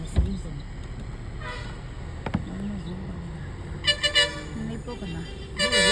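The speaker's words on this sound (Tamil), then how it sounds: "ஹார்ன் அடிக்கிறானுங்க" Several short vehicle horn toots sound at moderate distance amid street traffic noise, with voices talking in the background.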